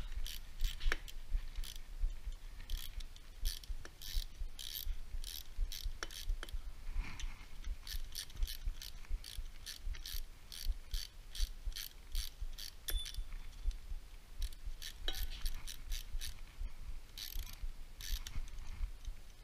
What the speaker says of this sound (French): on va détendre en fin de compte la chaîne